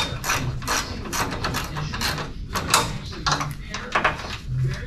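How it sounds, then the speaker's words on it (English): A ratchet wrench clicks in rapid bursts as bolts on the transmission cross member of a 1966 Chevrolet C10 pickup are loosened, close and fairly loud, with some metallic clanks between strokes. "I'm removing the bolts going to the cross member for the transmission. I'll loosen them up so I can get them out by hand."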